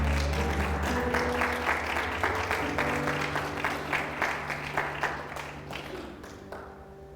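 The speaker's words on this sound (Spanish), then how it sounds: "denle un aplauso a esa palabra" Church congregation applauding during a Spanish-language sermon, a dense rattle of many hands, steady and full for most of the stretch, then thinning toward the end, with a steady low hum beneath.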